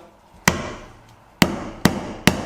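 A hammer strikes a coconut four times, each hit a sharp, loud crack followed by a short decay. The blows come at uneven intervals in a quiet room.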